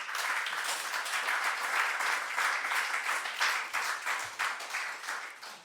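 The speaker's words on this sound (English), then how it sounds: "So that's the second round of applause for today" An audience applauds at a talk by historian Franziska Davies, a dense burst of many hands clapping that holds steady for several seconds before starting to thin out.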